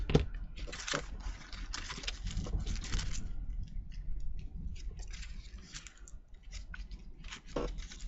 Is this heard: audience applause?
no